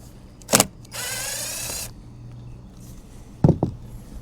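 A screw being backed out of a car panel with a cordless drill, heard as two short clicks, about a second of steady whirring, then two more sharp taps, close and fairly loud.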